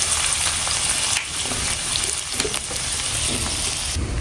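Chopped onion and green chili dropped into hot oil and frying, giving a loud, continuous crackling hiss close by with no talk, while mustard hilsa fish is being cooked in a home kitchen.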